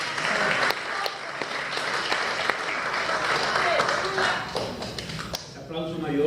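A church congregation applauds in a long, steady burst of dense clapping that fills the space, fading slightly near the end as a voice begins to speak.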